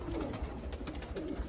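Iraqi pigeons in a loft in Europe, soft low cooing repeating close by over a faint background hiss.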